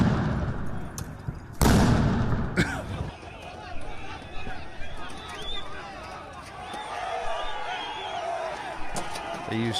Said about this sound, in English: They use stun grenades.